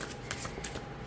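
A slightly bendy oracle card deck is side shuffled by hand, giving a quick burst of close, soft riffling and flicking card sounds with no talking.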